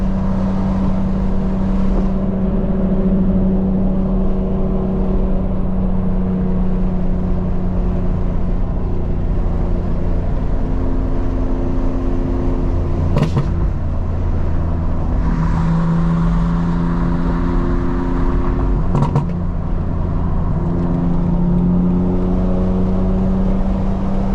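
A 900hp 2025 BMW M4 Competition xDrive running in two-wheel drive at open throttle, its engine holding a loud, steady drone that rises through the gears with two brief sharp breaks at the shifts, heard from inside the car.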